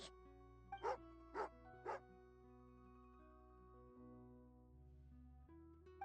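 A dog in the video game Genshin Impact gives three quick, clear barks near the start, followed by quiet ambient game music with no further barking.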